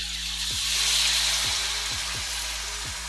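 Korat-style pad thai sizzles steadily in a hot pan while a utensil scrapes and stirs it in regular strokes every half second or so.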